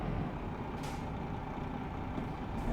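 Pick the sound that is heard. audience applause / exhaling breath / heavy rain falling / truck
truck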